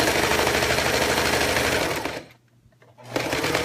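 Sewing machine stitching a zipper project, a loud, fast, continuous mechanical whir nearby that stops briefly for about a second before starting up again.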